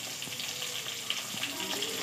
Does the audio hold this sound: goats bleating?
no